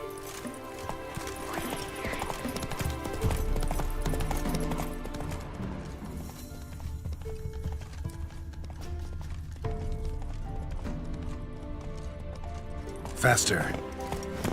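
Horse hooves clip-clop at a gallop in the Witcher 3 video game, a steady rapid rhythm with occasional whinnies, mixed with game sounds and a voice talking over it.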